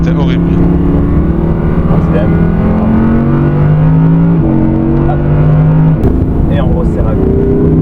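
A naturally aspirated V10 race car lapping Circuit du Laquais, its loud, close engine howl rising in pitch and dropping sharply at each of several gear shifts, with a voice coming through at times.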